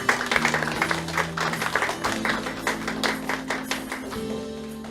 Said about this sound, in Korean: 무대 위에 올라오실 때 따뜻한 박수 부탁드릴게요